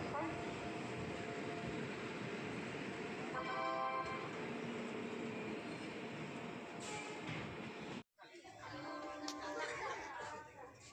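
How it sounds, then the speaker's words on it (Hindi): Passenger train leaving the platform at Prayagraj, a steady rumbling roar with rhythmic rattling, a brief dropout near the end before the rolling noise resumes, loud and close as if heard from inside a carriage. "जैसे ही ट्रेन चली, प्रयागराज धीरे धीरे पीछे छूटने लगा।"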